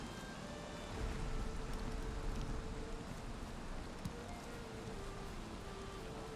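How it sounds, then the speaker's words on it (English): Steady rain falls in the Viking survival game Valheim as a continuous soft hiss of drops, fairly quiet and even, with faint wind and a few light ticks and taps in the mix. "It's raining now."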